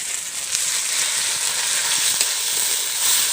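Ginger-garlic paste fries in a pan for a village-style desi chicken curry, giving a soft, even hissing sizzle with faint stirring ticks, close and continuous without talk.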